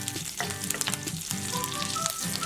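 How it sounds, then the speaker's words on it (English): Curry leaves and slit green chilies spatter in hot oil for a vegetable kurma, a close, busy crackle with sharp pops and stirring scrapes. "You would hear a small splatter, and my green chilies."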